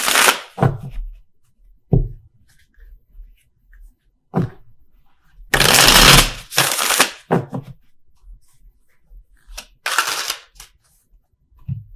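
Tarot cards shuffled by hand in several separate bursts, each a quick crisp riffle or flutter of card edges, with brief taps and knocks between them and no voices.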